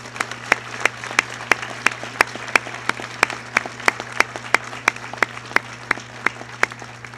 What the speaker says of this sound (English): Let's give all our new inductees a round of applause for their accomplishments.